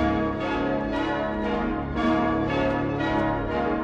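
Dense, continuous ringing of several bells with rich overlapping tones and rhythmic swells, full and resonant throughout.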